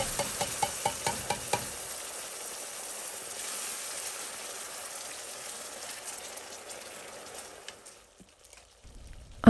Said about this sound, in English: Then I'll add my tomato sauce.